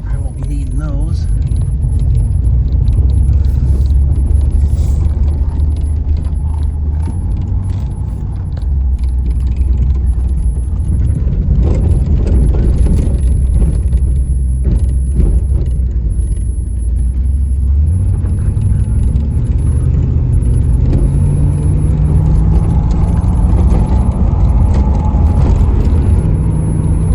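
A 1984 Chevrolet Camaro base model cruising down the road, its engine a steady low rumble under constant road noise, with a shifting engine tone late on and some faint voice-like sounds mixed in.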